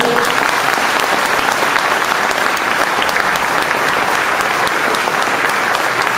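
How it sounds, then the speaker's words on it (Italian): Steady, dense audience applause for the Sukondaghe choir in Bonarcado, loud and close, a continuous wash of many hands clapping throughout with no speech over it. "Un applauso forte."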